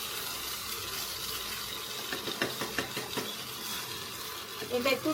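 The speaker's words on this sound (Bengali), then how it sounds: "এবার আমি মাছের পিসটা এর মধ্যে দিয়ে দেব, দিয়ে আবারও সবকিছু ভালো করে মিক্স করে নেব।" Fish pieces are stirred into pulao in a pot, with a soft sizzle beneath a run of rhythmic spoon scrapes and clinks that grow busier toward the end, heard close.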